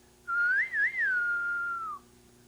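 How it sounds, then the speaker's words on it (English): A single person whistles a clear tune on stage, one sustained phrase with a quick rising and falling warble in the middle, loud and close against a quiet room. "first I tried to get into the whistling"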